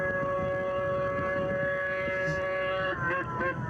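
A snowmobile engine revving at about 10,000 RPM screams in a steady, siren-like wail with strong sustained tones, then wavers and drops near the end.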